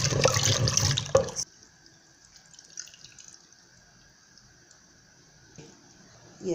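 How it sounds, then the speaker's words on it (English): Water pours and splashes into a bowl of ukana African salad being sieved, a loud gush for over a second, then quiet drips and faint trickling, with a short splash near the end. "you have to add a little water and then sieve it out"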